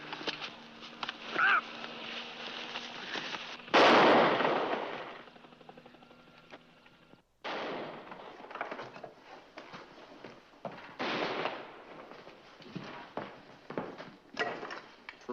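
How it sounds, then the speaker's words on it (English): Several sharp, loud bangs ring out at intervals, each with a short echoing tail, over a steady background hum and some muffled voices. "Just heard gunshots. 3 of them."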